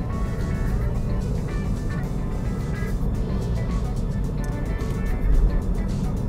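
Steady low road and tire rumble fills the cabin of a moving 2016 Toyota Vios G, a constant hum with a brief louder bump near the end, and a voice talking softly at times.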